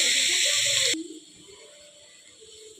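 Carrots sizzle in a frying pan for carrot halwa: a loud, close hiss for about a second that then drops abruptly to a faint, low crackle.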